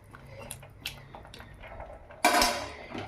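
A metal lid set onto a pot of simmering bottle gourd pulusu, with faint clinks and stirring before one sudden close clatter followed by a brief rushing hiss.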